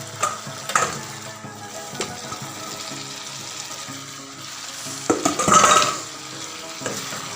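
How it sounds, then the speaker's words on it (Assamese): Tomato purée and potatoes frying together in a pan, loud close sizzling with repeated stirring scrapes and a burst of stronger hissing near the end, with no voices. "আলুখিনি একেলগে দি দিম আৰু অকণমান ভাজি ল'ম।"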